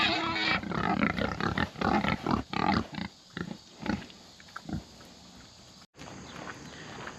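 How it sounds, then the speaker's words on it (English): Woolly pigs grunt and snuffle close by in a rapid series of rough bursts, with scuffling movement around them. "Oh, and we have found the woolly pigs."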